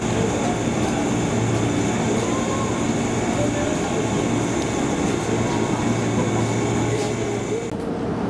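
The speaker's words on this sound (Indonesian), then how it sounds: "akhirnya KLB Bonbon memasuki jalur 1 stasiun Jakarta Kota" The KLB Bonbon electric train rumbles into platform 1 at Jakarta Kota station, a steady loud roar of the moving cars with a faint high whine, continuous across the whole stretch.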